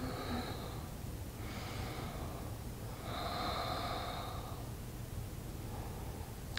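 Slow, deep breaths rise and fall a few times during a beginner yoga pose, soft nasal inhales and exhales over a steady background hiss.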